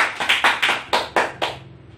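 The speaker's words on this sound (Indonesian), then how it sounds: "Beri aplaus kepada Windy" A short burst of applause in a high school classroom for a student named Windy, about eight distinct claps in a quick, steady rhythm, close and clear, fading at the end.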